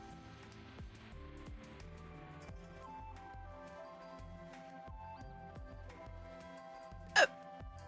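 A person gives one sharp, loud hiccup near the end, standing out alone over a quiet background of soft clicking tiles.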